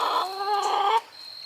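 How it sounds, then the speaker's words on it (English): Chickens from three age groups gathered together in a coop, giving a drawn-out, fairly loud clucking call close by that breaks off sharply, leaving quieter background noise. "Wanted to show you the chickens all together."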